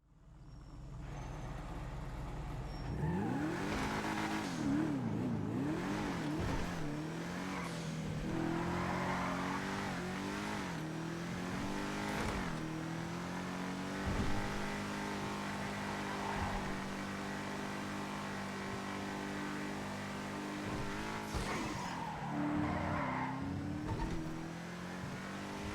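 A sports car in GTA Online driving on a test run, engine revving up and down through repeated accelerations and gear shifts, loud and close with no talk over it.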